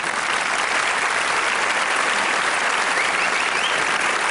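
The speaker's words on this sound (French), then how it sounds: "Je vous demande de l'applaudir à nouveau" Applause from a comedy show audience in Paris, a dense, steady roar of many hands clapping close and loud throughout, with no voices.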